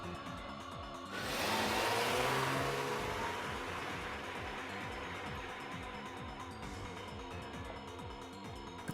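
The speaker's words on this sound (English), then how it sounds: "The car speeds off like a bullet." A car in the Steins;Gate visual novel speeds off, its engine surging into a loud whooshing acceleration before settling into a steady, fading drone.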